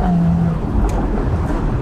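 Porsche 981 Boxster GTS with a 3.4-litre naturally aspirated flat-six and no particulate filter, revving loudly up close in a brief, full-bodied burst.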